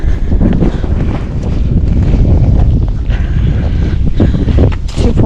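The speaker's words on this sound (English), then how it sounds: "this side there's a little more wind and you can definitely feel it" Cold wind buffeting a mountainside on the Appalachian Trail near Sams Gap, a loud, continuous low roar of gusts rushing over the microphone with no speech.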